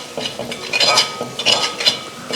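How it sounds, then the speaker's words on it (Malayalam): A spoon scrapes and clinks against a pan while stirring garam masala and black pepper powder for a Kerala-style beef dish, with several short clattering strokes in quick succession, close and moderately loud. "നന്നായി ഒന്ന് മിക്സാക്കി നമ്മുടെ പൊടിയെല്ലാം നന്നായി മൂപ്പിച്ചെടുക്കണം"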